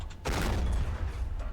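Gunfire from the Army Men of War strategy game erupts as a sudden close burst of crackling shots and booms, then continues as a dense rattling volley for just over a second.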